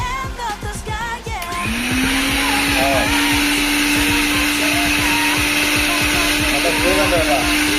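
A newly bought mixer grinder switches on after a few clicks and then runs with a loud, steady motor whine that holds to the end, with no talk over it.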